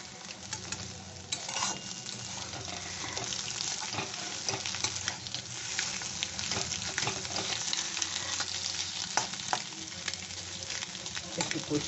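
Egg cutlet mixture with tomato sauce and chili powder sizzles steadily in a pan, with soft stirring scrapes and light crackles throughout, close and even.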